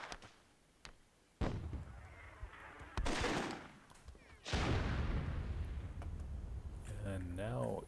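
Booming blasts and bursts of gunfire from a World War II mod of the strategy game Myth II, with several heavy explosions mixed with crackling shots and a commentator talking over the action.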